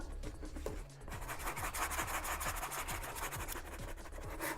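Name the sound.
sanding a helmet with a 60 grit sanding stick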